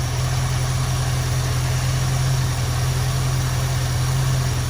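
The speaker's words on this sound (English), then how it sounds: "I can tell that the engine is rougher." The engine of a 1973 Mustang convertible idles roughly with a constant low, throbbing rumble and a steady whine above it, loud and close, with no talking.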